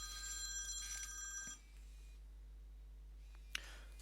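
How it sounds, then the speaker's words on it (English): A mobile phone rings indoors with a bright, tonal ringtone in the first second and a half, then falls quiet. A short click follows near the end, over a low steady electrical hum. "It's just my phone going off there."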